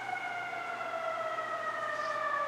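An ambulance siren sounds a steady, loud wail, its layered tones sliding slowly downward as it holds without a break, with no one talking over it.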